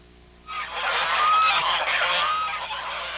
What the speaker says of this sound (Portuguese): Entre bichos comuns, como esse batalhão de gansos meio desconfiados